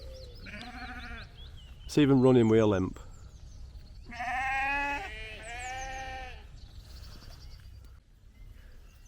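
Sheep bleating on Stanton Moor in the Peak District: several loud, close bleats in a row, with someone talking over and between them outdoors.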